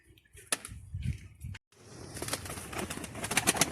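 A young pigeon tries to fly, giving brief bursts of wing flapping and soft rustling, followed by a denser flurry of flutters close by, with no talk.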